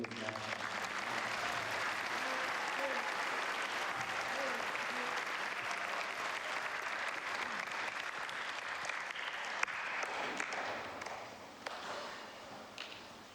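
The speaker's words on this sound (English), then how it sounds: "Ladies and gentlemen, a round of applause for the new national." Sustained applause from a school ceremony audience greeting newly named inductees, a dense steady wash of clapping that runs nearly the whole stretch before thinning out toward the end.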